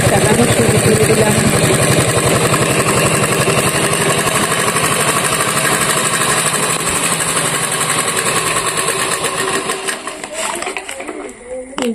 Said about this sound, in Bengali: এই যে আমি মেশিন চালানো শুরু করে দিলাম।